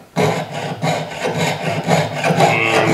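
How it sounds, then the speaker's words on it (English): A jeweler's saw cutting a piece out for a sword-shaped ring at the bench, loud and close, with a rhythmic back-and-forth rasp repeating in quick strokes for several seconds. "I think I'll start out by sawing out the piece"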